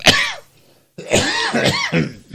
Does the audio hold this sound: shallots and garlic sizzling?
no